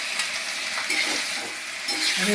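Fish heads dry-fry in a pan with dried and green chillies and onion, giving a continuous, close sizzle with scraping stir strokes.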